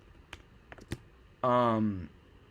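A handful of sharp computer keyboard keystrokes clicking during a geography quiz stream, followed by a short burst of a voice.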